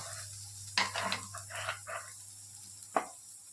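Food frying lightly in a pan after salt goes in, during a morning home-cooking routine: soft sizzle with a few stirring bursts and one sharp clink near the end, over a steady low hum.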